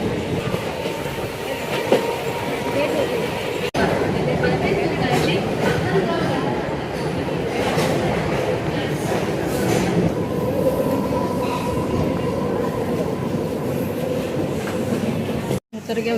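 A train rumbles and clatters at a railway platform in a steady, loud wash of rail noise with wheel clicks, while people talk nearby throughout.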